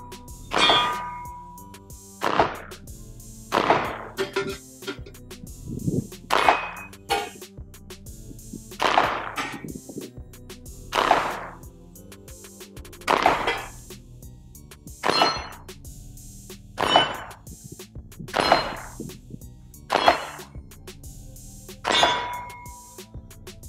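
A Glock 21 Gen 5 pistol fires a magazine of .45 rounds, about thirteen loud, sharp reports spaced one to two seconds apart, each with a short ringing tail, and no voices between shots.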